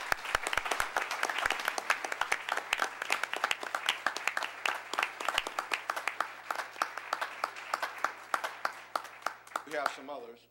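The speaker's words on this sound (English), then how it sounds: "Ladies and gentlemen, let's please give a round of applause to these wonderful," Applause for students at a city council meeting: a room full of people clapping steadily and densely for about ten seconds, fading out at the end.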